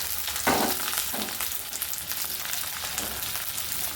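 Ginger and garlic sizzling in a hot pan, a loud broadband crackle with a burst as the ingredients hit the oil, then steady frying with faint stirring scrapes; no voices.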